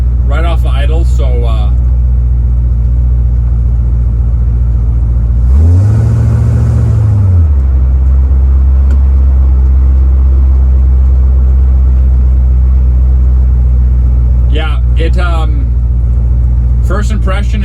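Car engine with a Motorcraft 4300D carburetor, freshly adjusted accelerator pump, blipped off idle: steady loud idle rumble swells into one short rev around the middle and drops back, with brief talk at start and end.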